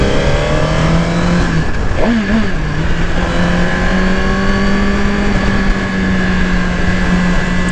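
A 2018 Suzuki GSX-R1000 sportbike engine hums steadily while riding, with a downshift blip and rev rise near the two-second mark, then a sustained loud drone under heavy wind noise, no talking.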